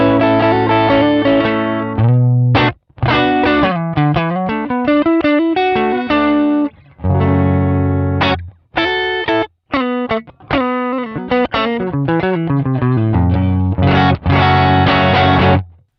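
Heavily distorted electric guitar through a Pocket POD's British high gain amp model plays riffs and sustained chords, thick and saturated, with short pauses between phrases and a full, loud tone.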